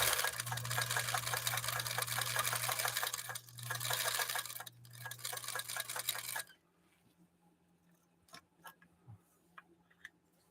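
A 1954 Husqvarna sewing machine stitches through dense leather without a hand start, running loud and steady with a rapid mechanical clatter for about six seconds, then stopping, followed by quieter scattered clicks and handling noises.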